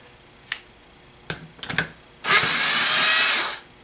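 A power tool, likely an impact driver, runs for about a second and a half to remove a gear from a Servo 140 power feed, loud and close, after a few sharp clicks and clanks of handling.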